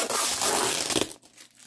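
Crinkly mail packaging tears open up close, a loud dense ripping that runs about a second before cutting off into quiet.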